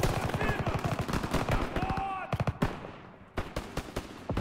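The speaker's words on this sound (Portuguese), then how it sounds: "Tiroteio aqui, muito arriscado." Rapid bursts of machine-gun and rifle fire in the World War II shooter Call of Duty WWII, loud close volleys with scattered single shots and brief lulls, mixed with in-game shouting.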